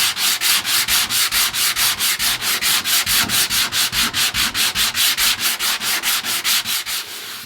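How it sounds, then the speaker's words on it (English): Coarse 80-grit sandpaper rubs back and forth over a cured epoxy fillet at a boat hull's chine, a steady rhythm of about six close, loud scratching strokes per second with no voices. "I'm trying to not hit the wood with this sandpaper."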